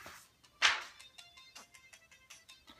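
A song streams from a cheap Windows tablet, heard as a faint tinny melody with a sharp bright burst near the start, then rhythmic repeating tones at low volume.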